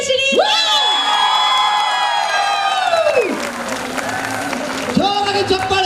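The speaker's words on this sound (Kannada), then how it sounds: "जोराಗಿ ಚಪ್ಪಾಳೆ।" A crowd at a singing contest finale applauding and shouting for the first-place winner, loud clapping under rising cheers and whoops that fade, then swell briefly again.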